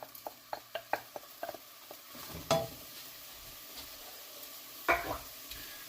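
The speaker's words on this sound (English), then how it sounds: "Onions and mushrooms with a bit of garlic go into the pot" Onions, mushrooms and garlic cook in a pot, with a run of light stirring clatters and utensil taps early on, a soft sizzle underneath and two louder scraping stirs later, close and alone.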